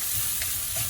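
Onions fry in a hot pan with a steady, close sizzle and faint stirring scrapes, continuous and fairly loud for a brief moment.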